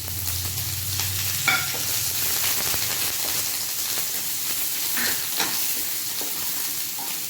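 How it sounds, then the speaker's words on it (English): Onions and curry leaves fry in a pan for a drumstick masala gravy, giving a steady close sizzle with a few soft clinks of stirring throughout. "just add the onions along with this. Then add the curry leaves."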